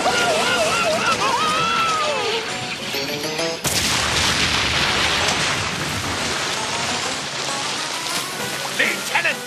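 Cartoon torpedoes fired from a submarine: a loud continuous rushing whoosh with watery churning, a sharp surge about a third of the way in, and cartoon voices talking over the noise.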